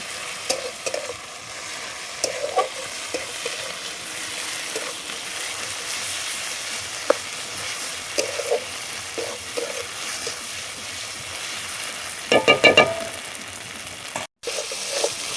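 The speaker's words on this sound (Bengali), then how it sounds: "ভালো করে কষিয়ে নেবো মশলাটাকে" Ginger, garlic and cumin paste masala fries in oil in a pan for a Bengali chicken curry, a soft continuous sizzle with scattered scrapes and clinks of stirring and a brief louder rattle near the end.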